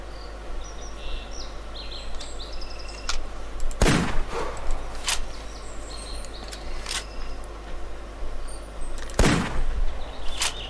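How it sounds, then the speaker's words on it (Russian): Two rifle shots fired at a deer in the hunting video game theHunter, each a sharp, loud crack about five seconds apart over a steady background of birdsong and insect chirps. "Все, стрелял. Два выстрела."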